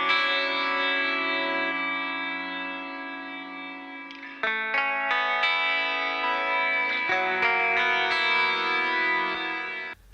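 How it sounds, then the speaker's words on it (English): Octave guitar tracks run through a Darkglass Alpha Omega Ultra pedal, with added ambience and compression. The tone is a sustained, distorted, harmonically rich drone that shifts through several pitch changes, with steady loudness and no voices. "what you're hearing is basically the Alpha Omega Ultra straight into Logic Pro X with just some ambience and some compression added"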